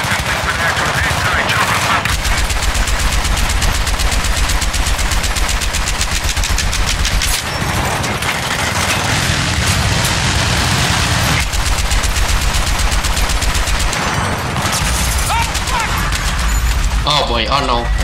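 Heavy machine gun fire in Battlefield 3 hammers away in long, relentless loud bursts with brief pauses, the rapid rounds dominating close up while a player talks excitedly over the din.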